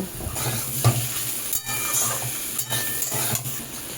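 Potato curry sizzles in a pan while a spatula stirs it, with a little sugar sprinkled in. The frying hiss is close and continuous, broken by several brief scraping strokes.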